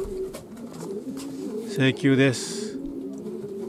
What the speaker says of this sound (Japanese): といっても今日いるハトは残りのハトだけですね